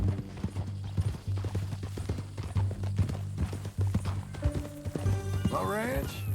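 Horse hooves clip-clop in Red Dead Redemption 2, a steady rhythmic trot up close under a low hum. A horse whinnies near the end and voices talk over parts of it.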